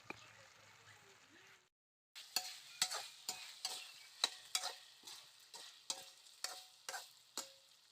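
Pork stir-fried in a pan for a hill-tribe style dish: a steady sizzle with sharp, regular scrapes and clacks of a utensil against the pan, about a dozen strokes in an even rhythm, close and clear. No talking over it.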